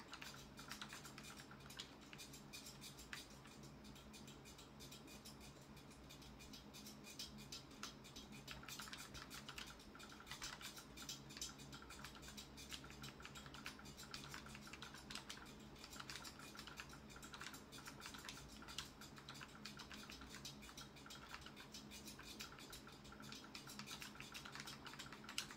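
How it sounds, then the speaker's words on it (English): Steady clicking from a computer fan runs throughout, a dense rapid ticking resembling keyboard typing, close to the microphone and fairly quiet, with no talk. "if you hear like that clicking noise, that's just my fan"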